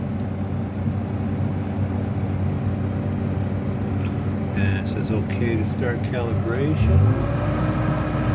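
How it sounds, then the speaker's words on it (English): Diesel engine of a Caterpillar 311D excavator runs steadily during a power shift pressure calibration, its rumble rising slightly near the end as the revs climb, with someone talking over it. "So it took the engine RPM up. I didn't touch the throttle, it did that."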